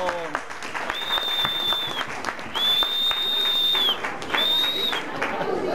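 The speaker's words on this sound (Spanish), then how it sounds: "Le damos un aplauso," An audience at a pet expo in Viña del Mar applauds a Gorgosaurus dinosaur puppeteer. Loud, steady clapping runs throughout, with voices and cheers and three long, high whistles cutting through.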